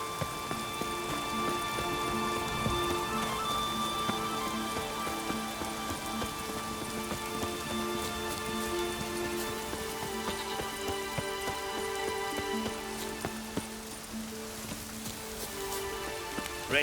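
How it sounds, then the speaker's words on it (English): Heavy rain falling in The Witcher 3: Wild Hunt, a constant dense patter of drops on surfaces that continues unbroken for well over a quarter minute, with faint game tones layered beneath it. "Raining fucking buckets."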